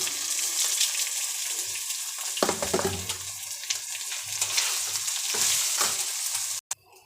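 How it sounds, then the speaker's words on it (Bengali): Rice is fried in oil with bay leaf, chopped ginger and cardamom in a pan, making a steady loud sizzle with stirring scrapes and a brief rustle. The sound cuts off abruptly near the end. "এবার আমি চালটা দিয়ে দেবো চালটা দিয়ে কিছুক্ষণ ভেজে নেব"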